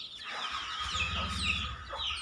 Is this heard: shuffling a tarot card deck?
no